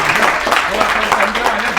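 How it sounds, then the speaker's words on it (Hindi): An audience at a ghazal singing competition prize giving bursts into applause, a dense, continuous patter of clapping filling the hall, loud and close throughout. "जोरदार तालियां हो"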